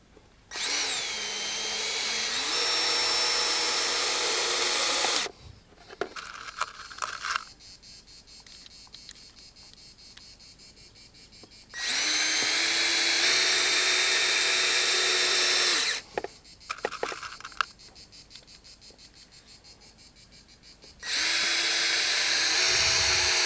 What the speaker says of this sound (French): Une visseuse et des vis pour terrasse, c'est-à-dire des vis inox.